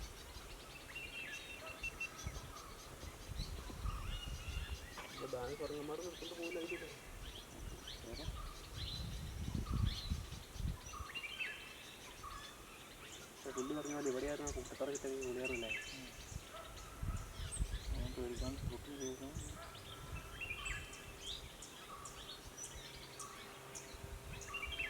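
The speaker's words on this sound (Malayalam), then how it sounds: "ഇവിടെ എത്തിയപ്പോഴേക്കും ഒരുപാട് പക്ഷികളുടെ സൗണ്ട് കേൾക്കാം" Many birds call through a forest near Valparai in South India, a layered mix of chirps and tweets near and far, with some louder bursts over steady background noise and voices in places.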